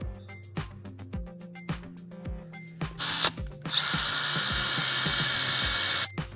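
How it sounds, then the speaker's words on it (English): A power drill bores a hole into a wooden wall stud to mount a garden tool organizer. A series of short trigger bursts is followed by two sustained, loud drilling runs, close up and with no talking. "With the second hole drilled"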